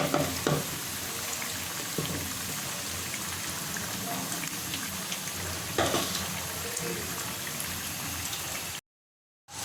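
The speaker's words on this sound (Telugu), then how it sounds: "ఇలా మనం దొండకాయల్ని డీప్ ఫ్రై చేసుకోవాలి" Ivy gourd (dondakaya) pieces deep frying in oil, a steady bubbling hiss like rain with occasional stirring knocks, cutting to silence just before the end.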